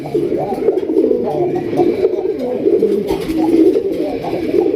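A rare-breed pigeon gives deep, rolling coos, repeated continuously and loud at close range, with faint human voices in the background.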